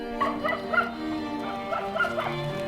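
Dogs at an animal shelter in India bark and whimper repeatedly, a close series of high yips and whines in an uneven rhythm over a steady background hum.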